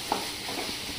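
Rice for tawa pulao is stirred in a hot kadai, giving a steady close sizzle with soft scraping stir sounds throughout one short moment.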